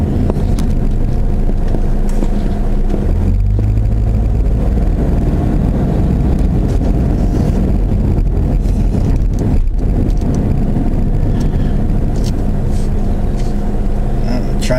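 A car driving out of town on a dark, gloomy evening, loud steady road rumble and cabin noise heard from inside, with some wind buffeting throughout.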